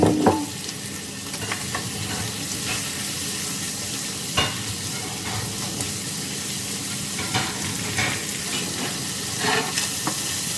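Chicken frying in a pan for a chicken and bacon carbonara, a loud continuous sizzle close by with the occasional scrape and stir of a utensil throughout.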